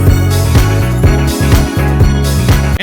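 Programmed drum pattern in a producer's beat, with an open hi-hat placed just before each clap or snare hit over kick and bass; loud, steady looping rhythm with no voice.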